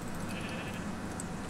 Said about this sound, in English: Oh look, there's sheep outside.